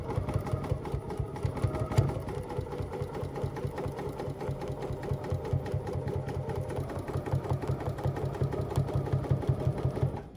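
A sewing machine runs steadily, stitching through embroidery on a quilt sampler block, a close, rhythmic mechanical whir with rapid needle pulses that continues without a break.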